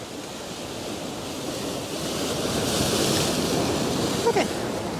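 Sea waves wash by the rock pools at a beach in Unawatuna, Sri Lanka, a steady rushing surf that swells gradually louder, with wind buffeting the microphone.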